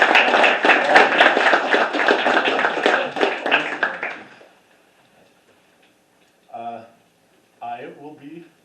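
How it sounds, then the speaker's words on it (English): Applause for performers at a poetry slam reading, dense rapid clapping from an audience for about four seconds that then stops, followed by quiet and brief bits of speech. "can we get a round of applause for our performers so far"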